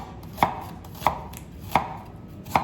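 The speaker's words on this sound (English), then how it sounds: "you just do vertical cuts every couple centimeters" A knife dices an onion on a cutting board with vertical cuts, giving four sharp, evenly spaced chops, one about every 0.7 seconds, close and clear, with no talking.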